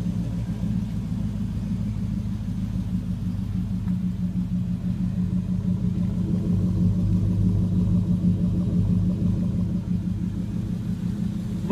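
A Toyota 4Runner idles through a Magnaflow exhaust, a steady deep rumble that holds even and close for the whole stretch, with no other sounds over it.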